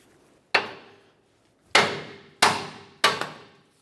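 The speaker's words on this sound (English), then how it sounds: "Now that we have the ball joint broken free, let's continue on with the hammer." Four sharp metallic hammer blows strike a front lower ball joint on a 1994-2002 Dodge Ram 2500, each ringing out briefly and decaying; the first stands alone, the last three come in a quicker uneven sequence.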